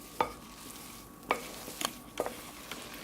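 Spatula folding flour-coated blueberries into vegan coconut lime muffin batter, soft wet scraping strokes with several sharper taps against the bowl, close and fairly quiet, no voices.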